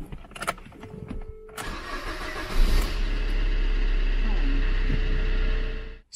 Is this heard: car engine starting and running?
yes